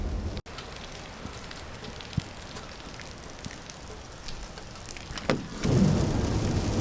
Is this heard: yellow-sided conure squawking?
no